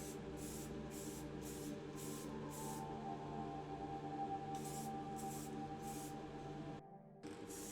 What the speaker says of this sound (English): The Matchbox Mercedes is coated with Motip 1K Automotive Gloss Varnish.